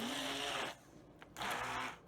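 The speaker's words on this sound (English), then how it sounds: "This is a stick blender or immersion blender." A stick immersion blender whirring through deviled egg filling with pickles, in two close bursts: a loud buzzing run, a short pause, then a second burst that fades out.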